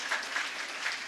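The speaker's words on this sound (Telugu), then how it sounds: "మీకు ఎంత గర్వకారణంగా ఉంటే ఒకసారి చప్పట్లు గట్టిగా కొడదాం." Audience applause at a Telugu Christian sermon about honored women, a brief steady burst of many hands clapping, even and fairly soft, with no speech.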